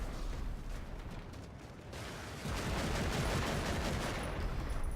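Dense, continuous weapon fire from the Warhammer 40K Eternal Crusade video game, including a beam weapon, forms a steady, loud wash of shots and blasts throughout with no break.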